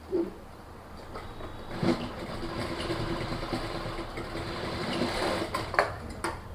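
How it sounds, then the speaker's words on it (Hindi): Sewing machine stitching the folded belt of a pleated skirt, a continuous close mechanical whir with brief pauses and restarts, moderately loud and alone. "इस साइड में हमने सिलाई लगा दिया और दूसरी साइड भी लगा देना इसी तरीके से।"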